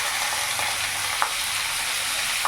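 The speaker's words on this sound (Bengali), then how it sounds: "পেঁয়াজটা যতক্ষণ না নরম হচ্ছে ততক্ষণ ভালো করে আমি ভেজে নেব।" Finely chopped onions frying in hot oil in a pan with garlic for a Bihari-style chicken dish, a steady bright sizzle with a few soft clinks of stirring, close and continuous without talk.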